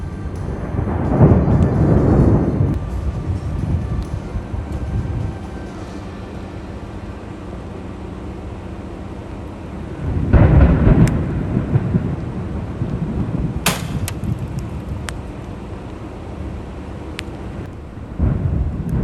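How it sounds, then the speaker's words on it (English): Loud thunder rolls during a tornado in Texas, with two deep, booming rumbles several seconds apart separated by a quieter stretch of storm noise and a few faint crackles. "There's just something extra special about loud thunder while watching a tornado."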